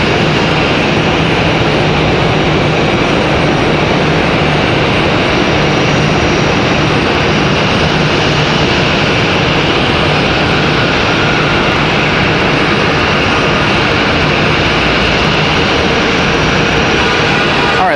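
Jet airliners taxi at Raleigh-Durham International, giving a continuous loud engine rumble and hiss that holds evenly throughout with no break.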